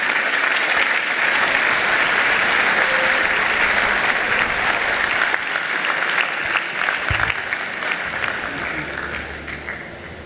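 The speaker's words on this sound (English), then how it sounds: "Please give a round of applause for Dame Asha Kemker." Sustained audience applause at a multicultural apprenticeship awards ceremony, a dense wash of many hands clapping steadily for about ten seconds before gently thinning toward the end, with no talking over it.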